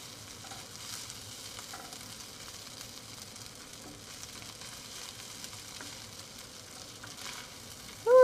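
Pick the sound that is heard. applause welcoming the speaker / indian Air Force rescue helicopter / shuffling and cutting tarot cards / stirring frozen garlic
stirring frozen garlic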